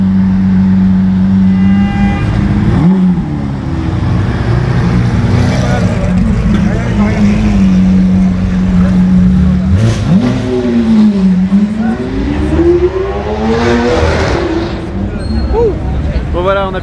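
A Lamborghini Aventador Liberty Walk supercar revs its engine loudly and close by, the pitch climbing and falling through several rising sweeps, with people talking over it.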